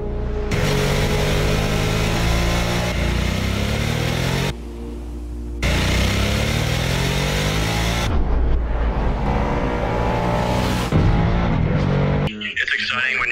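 Harley-Davidson Nightster motorcycle engine pulling hard up through the gears, loud and close, with steady rising revs, a brief drop at each shift, and a short break near the end.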